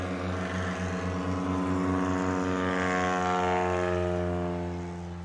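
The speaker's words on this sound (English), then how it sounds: "real clean takeoff for him that time" A STOL aircraft's engine drones loudly during a clean takeoff at a Rocky Mountain STOL competition in Pinedale, Wyoming, a steady propeller hum with strong pulsing harmonics that fades slightly toward the end.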